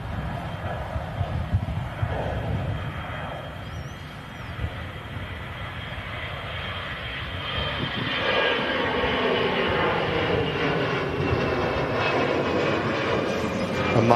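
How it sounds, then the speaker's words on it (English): An EasyJet airliner rolls along the runway at Manchester Airport bound for Paris Orly, its jet engines producing a steady rumbling roar that swells louder toward the end, with no talk. "EasyJet rolling on the runway out to Paris Orly."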